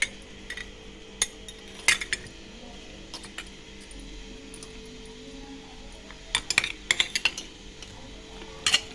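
A spoon clinks against the sides of a metal pot while stirring in a tamarind mixture, with irregular bursts of close, sharp metallic taps and scrapes separated by quieter pauses.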